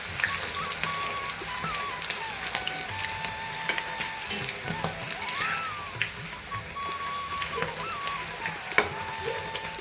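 Tapioca chips deep fry in hot oil, a continuous crackling, bubbling sizzle with occasional stirring clatter, heard close.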